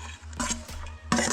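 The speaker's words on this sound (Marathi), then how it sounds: "हे सगळं चांगलं मिक्स करून घ्यायचं." A spoon stirs sweetcorn fritter batter with green chili, ginger, curry leaves, onion, ajwain and coriander in a bowl, giving short scraping clinks against the side, close and fairly quiet.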